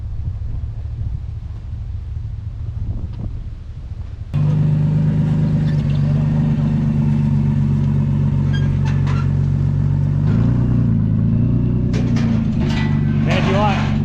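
A car rolls up and parks in front of a house, a steady loud engine rumble that jumps in level partway through and keeps idling and revving under wind noise, with people talking over it.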